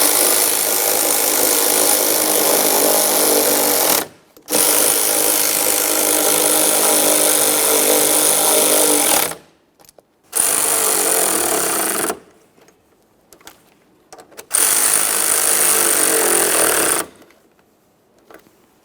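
A power tool whirs in four sustained bursts, separated by short silences, while snugging the door check mounting bolts on a 2004-2008 Ford F-150 truck door.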